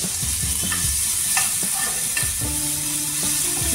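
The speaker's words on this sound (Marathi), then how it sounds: "तेल गरम करायला ठेवलं होतं, त्यामध्ये आता आपण हे 2-3 मिरच्या वाटून घेतलेल्या आहेत, ते टाकून घेऊ" Two to three ground green chillies frying in hot oil, sizzling steadily for an Uttar Pradesh-style aloo chaat katori, with stirring scrapes and utensil clinks on top; no talking.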